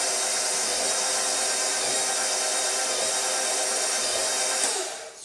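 An electric mixer whirs steadily through coconut cake batter with flour just added, a loud, constant motor drone that holds for about five seconds before winding down at the end.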